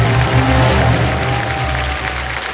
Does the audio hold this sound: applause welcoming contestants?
yes